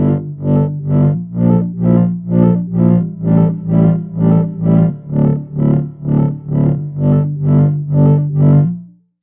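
A looped phrase played through a Boss RC-505 MK2 loop station with a dense reverb effect, a loud, evenly pulsing pattern of about a dozen beats per several seconds with a sustained distorted tone underneath, ending abruptly.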